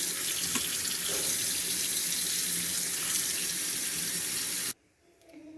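Running water pours steadily from a kitchen tap while fresh Cuban oregano leaves are rinsed, a loud continuous splashing stream that cuts off abruptly near the end, leaving near silence.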